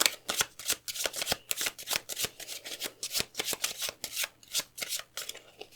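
Lenormand cards being shuffled by hand for a card reading, a steady run of quick crisp riffling bursts at close range with no talking.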